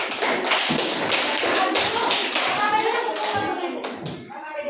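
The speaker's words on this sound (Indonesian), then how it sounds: "Kasih tepuk tangan untuk kelompok 4." Children in a Grade 5 science classroom clap together for a student group, a dense burst of close, overlapping claps with young voices chattering underneath, fading slightly at the end.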